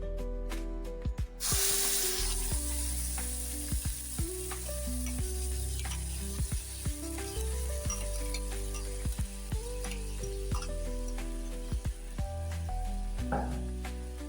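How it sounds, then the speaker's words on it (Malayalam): Ground coconut paste heats in a frying pan with a continuous soft sizzle, punctuated by scattered light taps and scrapes of a utensil, after a brief rustle at the start. "ഇനി ഇത് ഈ അരച്ച് വെച്ചിരിക്കുന്ന തേങ്ങാക്കൂട്ട് നമുക്ക് ചീനിച്ചട്ടിയിലോട്ടിട്ടൊന്ന് ചൂടാക്കിയെടുക്കാം"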